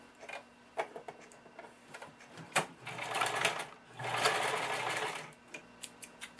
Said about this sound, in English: So we'll sew those together.